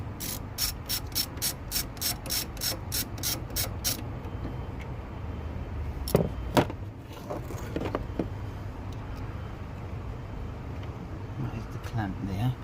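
A ratchet on a Torx bit clicks in about a dozen quick, even strokes while undoing a clamp on an L322 Range Rover Vogue, close and crisp, followed by quieter scattered tool and handling knocks.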